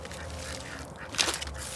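Ducks quack in a backyard duck pen, a few honking calls amid a busy background, with one louder close quack near the end.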